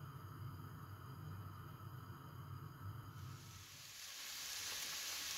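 Steady sizzling of onions frying in a pan, with a brighter, louder hiss rising midway as the frying intensifies; no voices.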